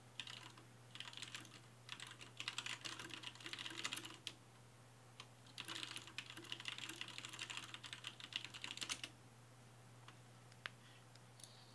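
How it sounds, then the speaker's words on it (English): Fast typing on a computer keyboard in two long dense bursts of clicks, then a few scattered taps as it trails off, quiet and near over a constant low hum. "Hold on, I'm typing the chat."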